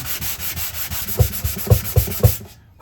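Hand sanding of a 1969 Martin D-28 acoustic guitar with 240 grit sandpaper: a steady scratchy rub with four firmer rhythmic strokes near the end, close and fairly loud, then stopping abruptly.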